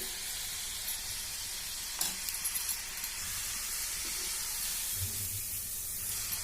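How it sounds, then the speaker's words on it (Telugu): Masala chana dal deep-frying in oil: a steady, bright sizzling hiss runs throughout, with a few faint clinks and stirs mixed in. "ఇదైతే మంచిగా ఫ్రై కావాలన్నమాట ఇంకొంచెం అయితే ఫ్రై కావాలి"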